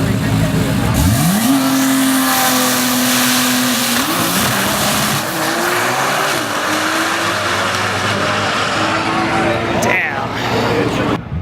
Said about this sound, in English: That sounds absolutely insane up there, them doing burnouts.